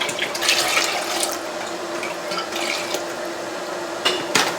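Vinegar poured into a pot for open-kettle pickling brine, a steady close splashing stream of liquid with a few clinks of pot and utensil, no talking.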